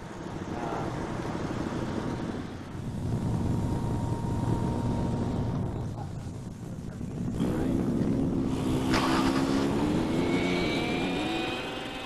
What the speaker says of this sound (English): It's time for one last trial of the radio-controlled helicopter under storm conditions.